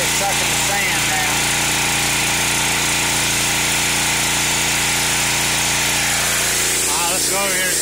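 Northern Tool sand pressure washer rigged for wet sandblasting on a trailer, its engine running with a steady loud drone and hiss as it sucks up sand, with a rising change near the end.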